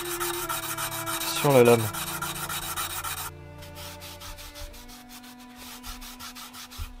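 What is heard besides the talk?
polishing a blade with Gesswein diemaker stones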